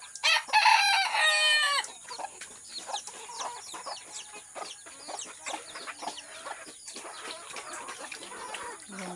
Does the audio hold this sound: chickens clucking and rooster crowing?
yes